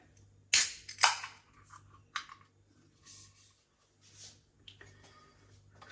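Sharp close clicks and a hiss as a 440 ml beer can is opened, followed by a few smaller metallic taps and rustles in a quiet room.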